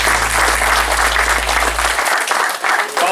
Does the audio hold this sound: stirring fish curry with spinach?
no